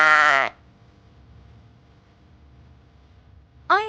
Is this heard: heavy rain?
no